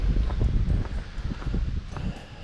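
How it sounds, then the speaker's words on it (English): Gusty wind buffets outdoors during a walk beside a road, a loud low rumble with irregular surges and rustling, close to the microphone. "Luckily today has a little bit of a wind"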